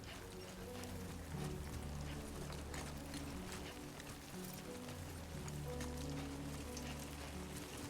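Rain falls steadily in the video game Death Stranding 2, a soft constant patter and hiss that stays even and faint over a low droning ambient background, with no talking.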